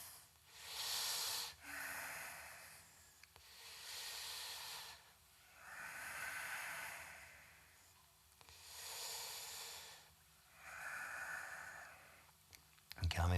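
Slow deep breaths during a gentle seated yoga twist in a beginners' Hatha class, soft airy inhales and exhales in a relaxed rhythm, four or five long breaths with quiet gaps between them.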